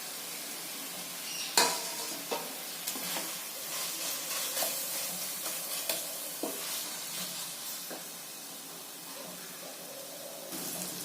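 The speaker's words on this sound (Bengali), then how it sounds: "এতে আলুর সঙ্গে মশলাগুলো ভালো করে মিশিয়ে নেব।" Mashed potato is stirred into fried spices in a pan for ghugni, the spatula scraping and tapping in irregular strokes over a soft continuous sizzle, close and moderately loud.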